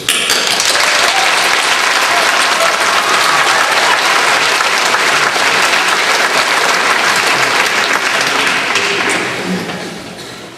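Audience applause at a college convocation for the class of 2013, a loud, dense crowd clapping steadily for about nine seconds before fading slightly at the end.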